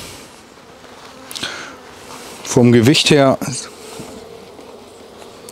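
Honeybees hum steadily in an opened beehive during early spring colony work, a constant dense buzz under a voice speaking German close to the microphone.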